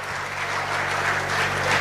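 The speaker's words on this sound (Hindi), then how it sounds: "तो जोरदार तालियों के साथ आइए" Steady applause from an audience at a Hindi political election debate in Takhatpur, dense and continuous clapping throughout with no voices over it.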